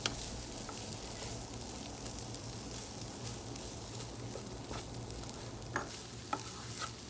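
Fried rice with bits of fried spam and scrambled egg is stir-fried in a pan, with a steady sizzle under repeated scraping and clinking strokes of a spatula, close and continuous, with no talk.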